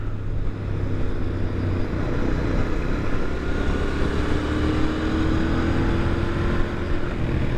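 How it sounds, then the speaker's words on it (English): A 2021 Royal Enfield Interceptor 650 motorcycle engine drones steadily while riding along, a continuous close rumble with no voices. "Motorcycle turns quite nicely."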